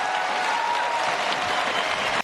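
A Fox News town hall audience applauds Pete Buttigieg: dense, steady clapping from a large crowd with some whoops, loud and continuous throughout.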